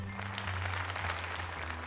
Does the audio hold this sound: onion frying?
no